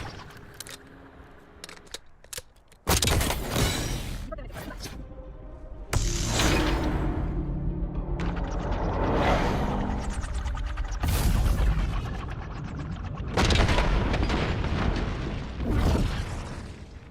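Repeated bursts of gunfire from a jump-shooting move in the Black Ops 6 firing range, loud and close, several sustained volleys separated by short gaps, with mechanical clatter between them.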